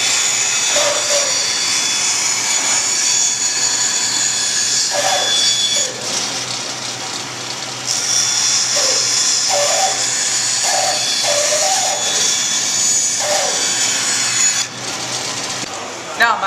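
A bandsaw cuts steadily through a wooden piece along a marked line, a continuous loud whine and rasp that dips briefly a few times, with a person talking over the machine.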